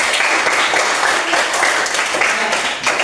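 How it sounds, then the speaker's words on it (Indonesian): Applause from a class of students for the first group, a dense burst of many hands clapping steadily for about three seconds, fairly loud and close. "Oke, tepuk tangan untuk kelompok 1."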